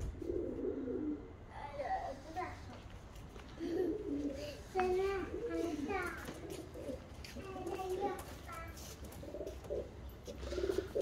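A released pigeon cooing and fluttering among children's excited voices, with bird calls repeating close by under steady outdoor chatter.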